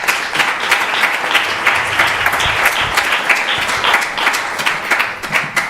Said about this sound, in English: A big round of applause for Prabhu.